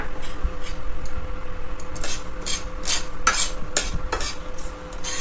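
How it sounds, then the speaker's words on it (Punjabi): Nigella seeds (kalonji) dry-roast in a pan, stirred with a metal spoon that scrapes and taps against the pan in a quick irregular rhythm. A faint sizzle runs underneath, close up, with no voices. "ਕਲੌਂਜੀ ਨੂੰ ਭੁੰਨਾਂਗੇ"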